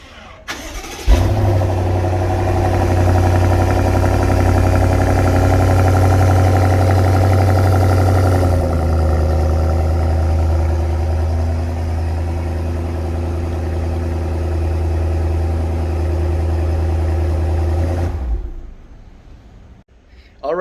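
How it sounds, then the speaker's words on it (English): A 2022 BMW M550i V8 is remote started nearby, catching with a sharp rise into a loud, deep idle that holds steady, then drops to a slightly lower idle partway through before cutting off near the end. "I can remote start the car"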